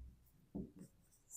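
Pen writing a math solution by hand on paper, a few short scratchy strokes, faint and close, with brief pauses between them.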